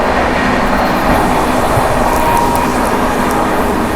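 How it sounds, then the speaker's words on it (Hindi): Trains wait and pass one behind another at a busy Indian railway crossing, a loud, unbroken rumble of wheels and carriages close by, with no talk over it. "बैक टू बैक क्रॉसिंग के लिए लगी हुई है ट्रेनें, देख रहे हो।"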